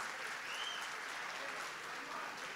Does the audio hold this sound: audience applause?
yes